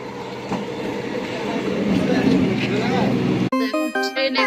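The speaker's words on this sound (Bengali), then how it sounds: "ফাইনালি আমাদের ট্রেনটা এইভাবে ঢুকলো" A passenger train pulls into a station with a loud, close rumble of rolling wheels and carriage noise building for a few seconds, then a sharp cut to a brief tonal horn-like sequence at the end.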